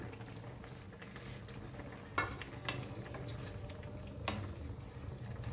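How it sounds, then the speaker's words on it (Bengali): A lid is lifted off a kadai of chicken butter masala simmering on a low flame, giving two or three sharp metallic clinks over a steady soft bubbling and hiss, with no one talking. "মিনিট 10 হয়ে গেছে, কড়াইয়ে ঢাকনা খুলছি।"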